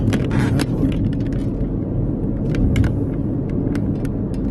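A car driving over big bumps on a rough stretch of Shades of Death Road in New Jersey, a steady loud rumble with scattered sharp knocks and rattles from the cabin, no talking.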